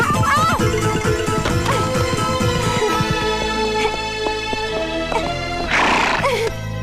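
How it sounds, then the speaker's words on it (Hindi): Horse neighing and hooves in a Bollywood film scene, a loud whinny rising over dense music and layered film sound, with a rushing burst near the end. "संजू बाबा तो घोड़े पे लड़की को उठा के ले आए सीधे घर पे ही।"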